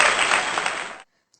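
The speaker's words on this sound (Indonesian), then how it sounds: "Tepuk tangan untuk kita semua." A class bursts into dense applause for about a second, then it cuts off abruptly into silence.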